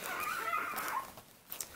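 Newborn puppies from a litter of six whimper faintly while latching onto a teat to nurse. Soft, high, thin cries stay close but quiet, with a few brief squeaks near the end.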